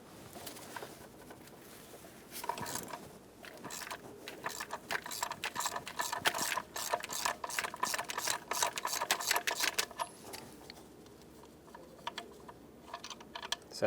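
A ratchet with a 19mm socket works loose a part on a 3.6L Dodge Grand Caravan, giving a long run of quick, close clicking pawl strokes that speed up and then trail off. It plays alone with no talk.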